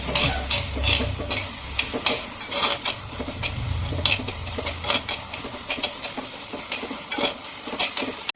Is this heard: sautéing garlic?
yes